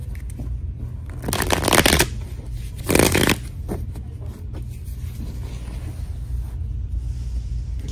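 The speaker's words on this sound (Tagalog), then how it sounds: "balasahin muna po natin bago po tayo mamili ng cards" Tarot cards shuffled by hand in two brisk riffling bursts, each about a second long, close and fairly loud over a steady low room rumble, with quieter handling sounds between them and no talking.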